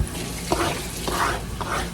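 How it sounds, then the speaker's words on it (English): Water squeezed by hand out of grated zucchini, a close, steady trickling and splashing that runs for about two seconds with small surges along the way. "I'm gonna put the zucchini right on there and just kind of squeeze it out"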